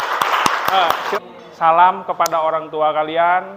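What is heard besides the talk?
class applauding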